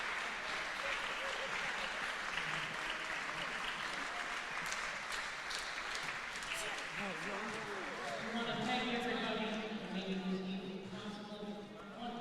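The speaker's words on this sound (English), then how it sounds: "Round of applause for Alina Bloomgarden." Applause from a concert audience at a Juneteenth jazz event, a dense, sustained clapping that fills the room, with some voices and cheers mixed in.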